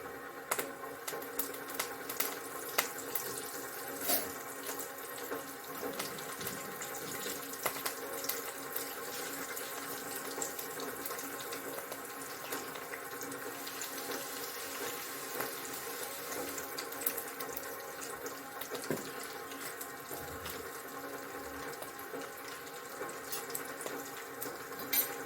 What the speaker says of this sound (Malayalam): കടുക് നല്ലവണ്ണം പൊട്ടട്ടെ.